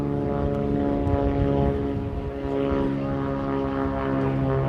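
A propeller airplane drones loudly and steadily at an outdoor fly-in airfield, its engine tone holding strong throughout the takeoff run.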